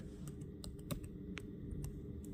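Quick keystrokes on a computer keyboard as a short heading is typed, a run of distinct close taps over a steady low room hum.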